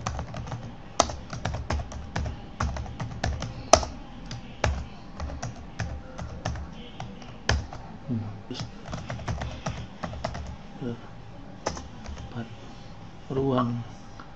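Computer keyboard typing a class name in Google Classroom, a steady run of quick clicking keystrokes at moderate level with a short burst near the end, while a person talks throughout.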